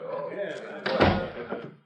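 A door slams shut in an old radio drama, a single solid thud landing over a narrator's ongoing voice.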